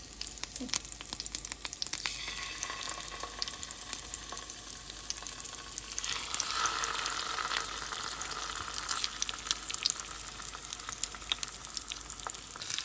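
Pearl spot fish fries in a pan with curry leaves, a steady soft sizzle with faint crackles running unbroken throughout, no voices.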